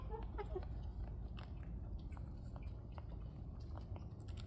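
Steady, faint crunching and chewing, close up, a rabbit nibbling food over low background hiss.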